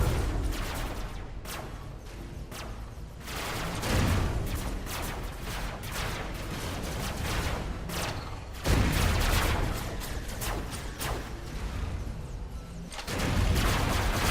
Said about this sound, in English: Yeah, lots of gunfire down there.